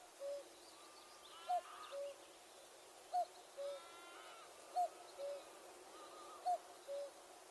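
A cuckoo repeats its two-note call four times at an even pace, picked up by an unattended AudioMoth recorder on a farm, sounding faint and distant over steady background hiss.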